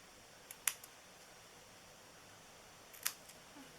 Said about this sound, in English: I'm going to grab these little snips.